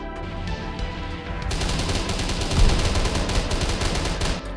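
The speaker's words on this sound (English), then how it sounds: "Perhaps the double autocannon is more effective than the rotary cannon for some reason." An autocannon fires in the Minecraft Create mod: loud, rapid, repeating bursts of shots run almost continuously with a sharp mechanical crackle, and no one speaks.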